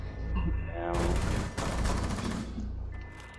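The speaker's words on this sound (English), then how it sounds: "This fucking Ash tried to drop shot me and I hip fire headshot at her" Rapid bursts of close, loud gunfire from Rainbow Six Siege fill the mix, a dense volley followed by a second sharp burst, with no talk over it.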